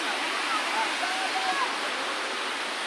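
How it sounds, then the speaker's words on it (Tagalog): Bolinao Falls in Pangasinan, a constant rushing roar of cascading water filling the scene, with faint voices chattering underneath. "Ito pala ang falls"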